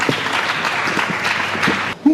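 A church congregation applauding during a service, a dense, steady wash of clapping hands that fills the space for about two seconds before cutting off, followed by a brief sung note.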